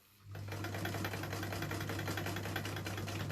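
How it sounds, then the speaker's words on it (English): A sewing machine starts and then runs at a steady pace while stitching a fabric bag, giving a continuous, close mechanical hum with a rapid rhythmic needle beat. "And just gently sew over."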